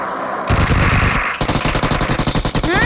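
Gunfire in the PUBG video game, a loud close burst of rapid automatic shots that breaks off and then resumes as a steady rhythmic stream of shots.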